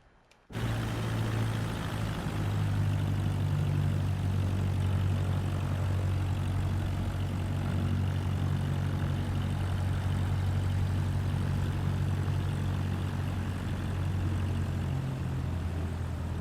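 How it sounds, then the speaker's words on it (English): A propeller airplane's engine in Microsoft Flight Simulator starts up and then drones steadily and loudly at a low hum as the plane taxis toward takeoff, with no speech. "Let's position the plane for takeoff."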